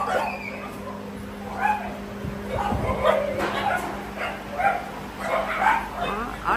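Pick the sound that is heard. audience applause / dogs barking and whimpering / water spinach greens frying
dogs barking and whimpering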